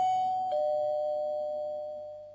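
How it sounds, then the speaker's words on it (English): A two-tone doorbell chimes, its ringing tone sustaining and slowly fading away, with no talking. "and rang the doorbell."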